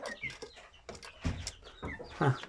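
An Iğdır rooster clucks in a new coop with young chickens, giving a few close, uneven calls over a low background, with a louder harmonic call near the end.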